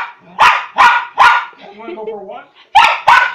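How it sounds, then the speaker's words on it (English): A dog gives several loud, close barks in a quick series, pauses for a soft whining murmur, then barks twice more, while a person speaks briefly between the barks. "No barking."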